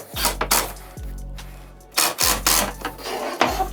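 A power driver sets screws into Sprinter van footrest storage, with about four short whirring bursts, each ending in a falling pitch, separated by brief rubbing and handling noises.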